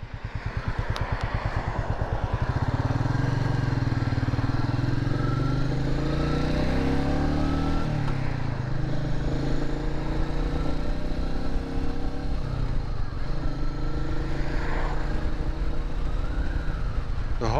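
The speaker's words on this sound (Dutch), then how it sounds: "Maar toch zit er zo'n schoon roffelgeluidje in." A 2021 Royal Enfield Meteor 350 motorcycle engine rumbles steadily and loudly at close range with a low throbbing note while riding, as an ambulance siren wails faintly in the background.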